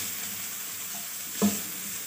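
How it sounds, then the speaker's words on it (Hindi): Steady hiss of onions sizzling in hot oil, with a brief clatter of stirring midway; no voices. "ऑयल गरम हो जाए तो उसमें हमने ये प्याज डालनी है, और इसको 1-2 सेकंड के लिए फ्राई करना है"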